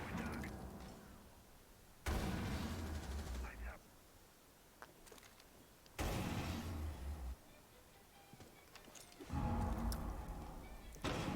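A grenade goes off during a competitive Rainbow Six Siege match, with loud blasts erupting three separate times, each a sudden booming burst that decays over a second or so between quieter stretches of game ambience.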